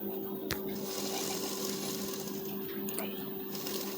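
A sewing machine runs a seam on a lined blouse, a faint steady mechanical whir with a few soft clicks and knocks.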